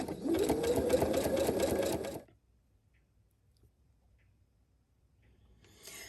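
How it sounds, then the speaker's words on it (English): Sewing machine running a decorative straight stitch along an edge, a fast, steady whir for about two seconds, then silence before the motor starts again at the very end. "I'm going to follow right along the edge of this straight stitch"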